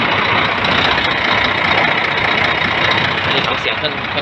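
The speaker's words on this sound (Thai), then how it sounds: "นี่ของเสียงเครื่องยนต์นะครับ" A Scania P410 6x4 tractor unit's diesel engine idling, a steady, close, loud rumbling drone with a fine knocking texture that holds evenly throughout.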